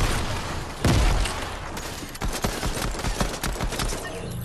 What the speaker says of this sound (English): Oh, a submachine gun.